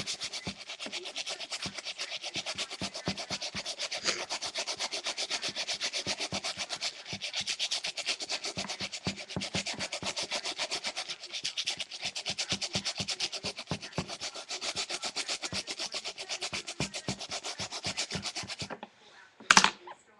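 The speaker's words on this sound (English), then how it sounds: "So just start scrubbing it in again." Nubuck leather being scrubbed with a brush, steady rapid back-and-forth scratching strokes in a close, even rhythm for about nineteen seconds, ending with a short clatter.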